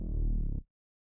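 Dry Massive X synth bass played with no effects: a dense, warm low tone held for about half a second before stopping abruptly into silence.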